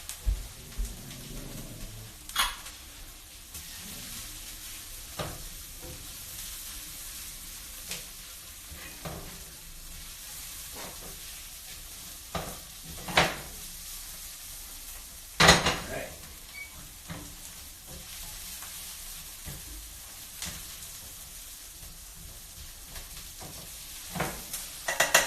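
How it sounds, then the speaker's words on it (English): Chopped garlic sizzles in a hot pan, a soft continuous frying hiss broken by occasional clanks and scrapes of stirring, close by and unaccompanied by talk. "Let the garlic get nice and fragrant and a little browned in there."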